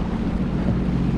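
A Sea-Doo personal watercraft runs across open water, its low engine rumble mixed with wind buffeting the microphone and splashing spray in a steady, close, loud roar.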